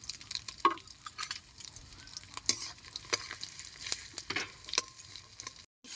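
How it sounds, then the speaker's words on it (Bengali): Chopped onion, garlic and green chillies fry in ghee for a biryani, giving a steady close sizzle broken by the scrape and clatter of stirring, with no talking. "সুন্দর লালচে লালচে পেঁয়াজটা ভাজা হয়ে গেছে, পেঁয়াজ রসুন ফোড়নটা"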